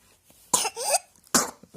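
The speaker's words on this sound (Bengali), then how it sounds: "কাশিটা হয়েই যায় জ্বরটা যদিও কেটে যায় কে কিন্তু কাশিটা এখনও যায়নি" A young child with a cold and a lingering cough after a fever coughs twice, close and sharp, in a quiet room.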